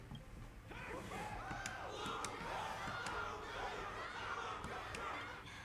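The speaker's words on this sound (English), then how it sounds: "Everyone's cheering for you, Luca." A crowd cheers and shouts in Honkai: Star Rail, a steady swell of many voices with scattered louder cries and sharp bursts throughout.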